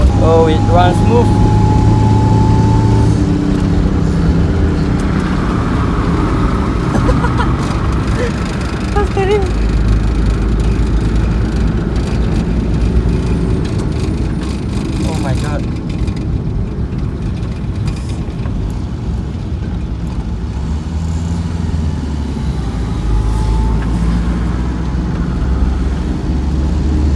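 A Toyota KP30 engine idles smoothly with a steady, loud, low rumble that runs unbroken throughout, while voices talk over it.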